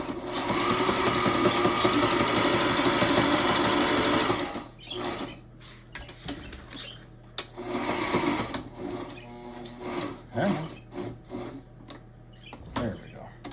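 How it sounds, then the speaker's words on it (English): Domestic sewing machine stitching a 1-liter water bottle bag, a loud continuous mechanical whir for about four seconds, then short bursts of stitching broken by pauses, with a person talking quietly between runs. "Stitch length seems to be a little bit off on the machine today."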